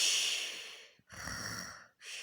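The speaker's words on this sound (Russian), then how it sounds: "Хватит храпеть. Храпит и храпит." A person's heavy, rasping snoring comes in long, noisy breaths, two drawn-out snores separated by a short pause, quiet and close with no talking.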